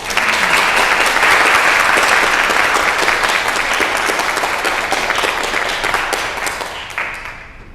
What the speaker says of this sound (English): Just let's give them one more round of applause.